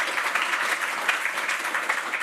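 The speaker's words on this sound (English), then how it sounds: "one more warm round of applause for our panelists" An audience at an art and fashion panel event gives the panelists a warm round of applause, a short, even burst of many hands clapping with no speech.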